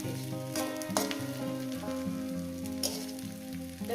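Eggplant slices fry in a pan with a continuous bright sizzle, partly masked by louder tonal music playing over the whole stretch.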